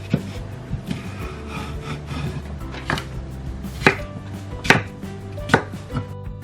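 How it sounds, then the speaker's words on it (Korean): A knife chops aged Korean cucumber (nogak) into bite-size pieces on a cutting board, a series of sharp, fairly close thuds at an uneven rhythm, with soft rubbing between cuts and no voices. "한 입에 먹기 좋게 적당히 썰어주세요"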